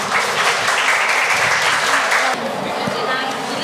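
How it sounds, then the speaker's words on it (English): An audience at a student performance of Twelfth Night claps in a full, dense burst of applause that holds steady and then eases slightly, with a voice carrying over the clapping. "please give them a big round of applause"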